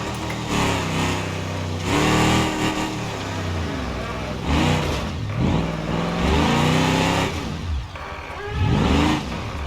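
A monster truck engine in a rock-crawling video game revs repeatedly while climbing a hill, its pitch rising and falling in loud surges, with a voice talking over it at times.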